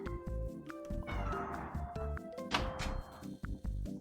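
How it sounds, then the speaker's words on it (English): A pet cat named Wilbur meows repeatedly indoors, with drawn-out, wavering cries close and clear, no talking over them. "What are you meowing about?"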